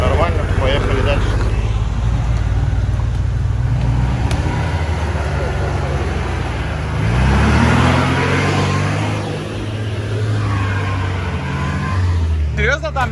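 An off-road car drives along a rough upper dirt road, its engine giving a loud, steady rumble that swells and eases as it works over the terrain, with people talking inside over the noise.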